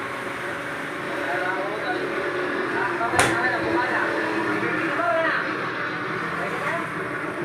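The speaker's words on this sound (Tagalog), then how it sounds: "Ito yung hangin sa labas, oh." Strong wind blowing outdoors during a rainstorm, a steady broadband roar with gusty swells and one sharp thud partway through, sustained loud throughout with no voices.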